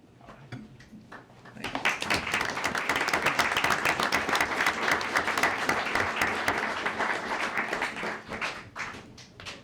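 An audience at a city mayor and council meeting breaks into a burst of applause that lasts several seconds and then fades out, following a few scattered claps at the start.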